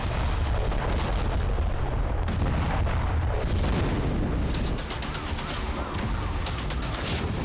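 Dense, continuous barrage of booms and cracking blasts from a wartime attack in the Russia-Ukraine war, loud and sustained, with rapid popping bursts layered throughout.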